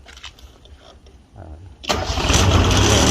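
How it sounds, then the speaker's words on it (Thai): Old Japanese three-cylinder diesel generator welder, jump-started with a weak battery, cranks briefly and then catches into a loud, rough, rattling idle as people talk nearby. "สตาร์ทติดง่ายมากเลยเครื่องดีมากๆนะครับ"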